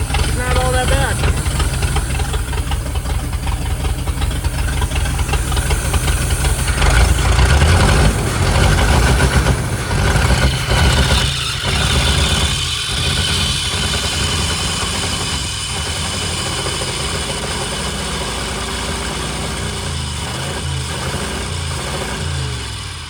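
An old engine in a project machine runs rough as it warms up, a loud, continuous uneven idle with hissing and knocking, with someone talking over it at times.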